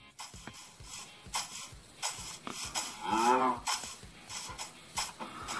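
Cows moo in the Minecraft game, with one clear low moo standing out mid-way over soft game noises and footsteps, fairly close and without speech.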